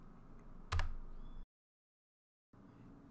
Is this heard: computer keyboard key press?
yes